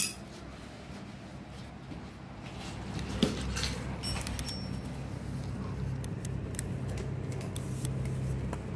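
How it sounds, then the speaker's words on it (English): A hose line is cut during a turbo install on an EM2, with a few short snips and clicks over a steady low workshop hum, including one sharper snip near the middle. "I'm just gonna cut the line where I need to cut it."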